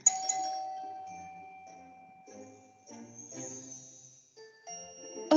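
Ringing doorbell chimes sound out in a sequence of clear, sustained bell tones, one tone fading as the next begins, loud and close in a quiet room.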